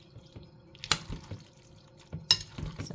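A spoon stirs macaroni salad in a bowl with a few sharp clinks and soft wet, sticky scrapes, close and quiet.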